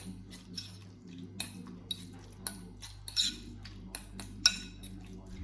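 A spoon scrapes and clinks in a bowl while mixing vegetables and tuna with mayonnaise, a series of soft irregular taps and scrapes, fairly quiet and close.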